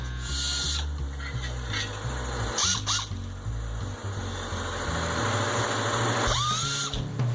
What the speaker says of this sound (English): another cheap air grinder from Harbor Freight bites the dust